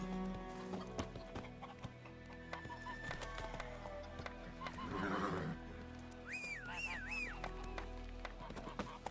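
In The Witcher 3, a horse's hooves clip-clop steadily as it sets off, with a clear neigh rising near the end over quiet game ambience.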